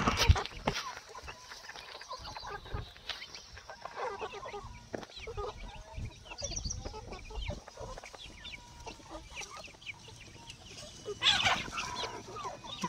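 Free-range village roosters and hens on a farm cluck and call repeatedly at close range, irregular bursts over the yard's ambient noise, with scattered handling sounds.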